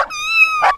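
A single drawn-out cat meow used as a sound effect in a told story, loud, close and clear, rising and falling over under a second, alone without talk.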